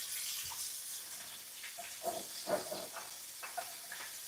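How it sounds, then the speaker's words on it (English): Breaded frozen okra fries in hot grease with a steady, close sizzling hiss and scattered soft pops and crackles. No one talks. "So you're gonna fry this just like you do your regular okra"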